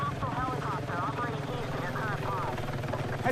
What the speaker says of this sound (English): Heads up! Enemy helo!